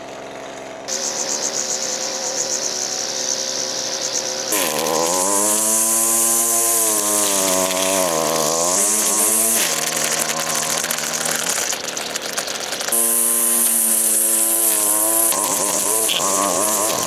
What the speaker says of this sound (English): The trimmer seems to be working just